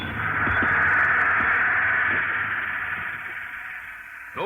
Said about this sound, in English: Those are the sounds of a railroad repair shop, where freight cars are repaired or rebuilt in a matter of days or even hours